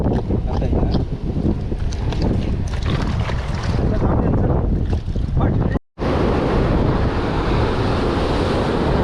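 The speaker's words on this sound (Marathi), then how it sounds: "लाट पण भरपूर आहे" Sea waves wash and surge continuously against the shore during shore fishing on the Ratnagiri coast, loud and steady with wind buffeting the microphone, cut by a brief dropout near the six-second mark.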